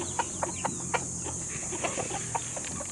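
Purebred shamo hens in a farm breeding pen cluck in short, repeated soft calls over a steady high insect-like hiss, with no talking.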